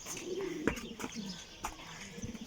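Soft, low pigeon coos repeat a few times at a distance, with a faint chirp and light background noise.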